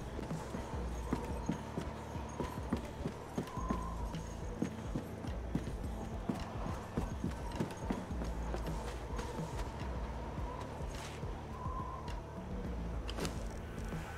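Horse hooves clip-clopping in the video game Conan Exiles on the Isle of Siptah map, a continuous run of rhythmic hoofbeats with wind in the background, fairly close and steady throughout.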